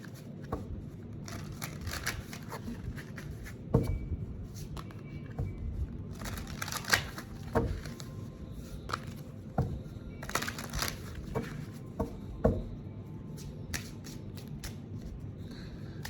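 A deck of cards is shuffled again and again at close range, with soft riffling rustles broken by sharp snapping riffles and taps at uneven intervals over a quiet background.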